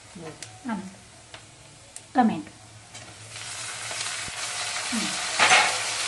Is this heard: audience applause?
no